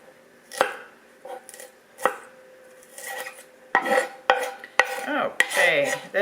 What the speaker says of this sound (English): Just chopping up the bigger pieces.